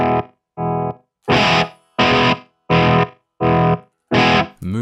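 Distorted electric guitar chord chopped by a tap tempo tremolo pedal with its shift control centered, giving even pulses of sound and silence in a steady rhythm, loud and close with no talk.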